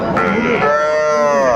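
A bull calf at Raniganj cattle market in Dinajpur lets out a single loud, drawn-out moo close by, its tone sliding and holding steady, after a brief bit of voice at the start.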